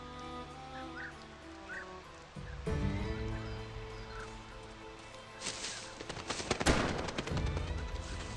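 Shotgun blasts from quail hunting in the Xbox 360 game GUN, a couple of loud reports with echoing tails over outdoor game ambience, birds fluttering and chirping and faint hoofbeats in the background.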